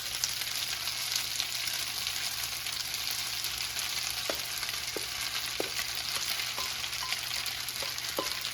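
Ground turkey frying in a seasoned pan, a steady close sizzle running throughout with a few light scrapes and stirring clicks over it.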